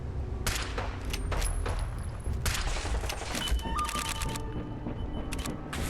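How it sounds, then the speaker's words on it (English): Rapid laser gunfire from a Gatling laser in Fallout 4, with bursts of crackling, sizzling shots fired at a super mutant firefight, steady and fairly loud throughout with repeated volleys. "The guy over there's got a Gatling laser."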